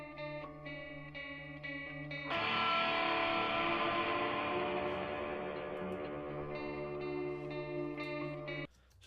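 Music mix with the bass sent to a reverb, a steady full sustained texture with a sudden thickening after about two seconds, then cutting near the end; no talking.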